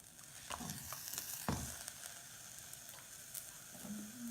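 Onion carrot uttapam frying on a griddle under a closed lid, giving a steady soft sizzle with faint crackles and a few brief clatters, no voices.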